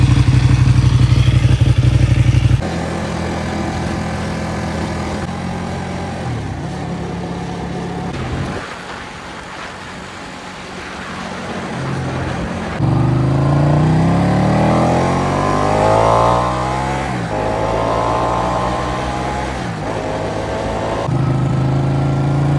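Ducati Panigale motorcycle on a test ride after a chain service, its engine loud and close, rising and falling in pitch as it revs up through repeated accelerations, with no talking.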